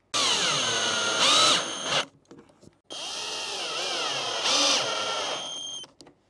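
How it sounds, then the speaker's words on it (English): A power drill drives screws to fit casters onto a cupboard in two loud bursts of whining motor, the pitch shifting as each screw seats, with a short pause between them. "So let's get these casters screwed in and we should be golden."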